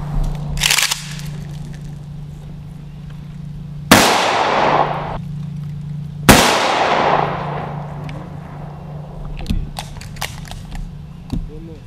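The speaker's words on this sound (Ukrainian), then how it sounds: "хвилину мовчання доповнили автоматні постріли" A steady low hum runs throughout, broken by a few sharp, loud automatic rifle shots fired as a salute during a minute of silence at a rally in Trypillia, spaced seconds apart, with fainter clicks and knocks between them.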